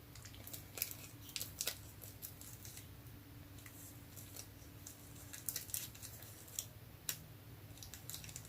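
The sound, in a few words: scissors cutting out a paper napkin motif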